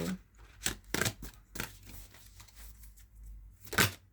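Tarot and oracle cards are shuffled by hand up close in a quiet room, in a few short, crisp riffling bursts separated by pauses.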